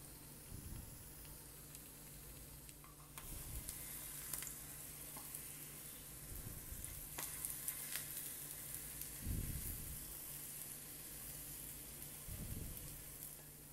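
Malpua fry in a pan, turned so both sides cook, with a steady soft sizzle of hot oil and occasional scraping and stirring sounds. No one speaks.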